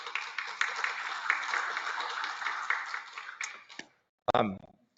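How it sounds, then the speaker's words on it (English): Applause at a meeting, a steady patter of many hands clapping that fades out, followed by a short burst of voice. "So big round of applause for everybody."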